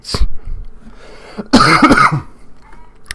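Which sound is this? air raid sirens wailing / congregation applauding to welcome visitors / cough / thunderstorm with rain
cough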